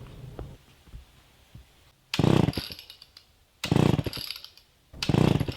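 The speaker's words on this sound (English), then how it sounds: "I'm gonna give myself a little break and use the chainsaw" A chainsaw cuts through trees while a woodland path is being widened. There are three loud, sustained bursts of engine roar, each separated by quieter gaps of idling and rustling. No one speaks.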